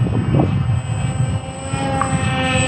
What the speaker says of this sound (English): For two brush motors, it's super quiet.